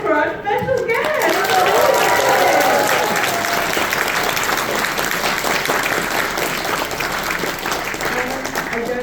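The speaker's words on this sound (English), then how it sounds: "So, can we have a big round of applause for our special guest?" Loud, sustained audience applause and clapping for special guests at a UK Ponycon convention Q&A, a dense crowd of hands filling the room continuously from start to finish.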